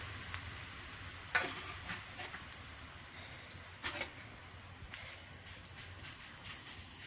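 Dried jackfruit rags fry in hot oil, giving a faint, steady sizzle with occasional sharp ticks and pops.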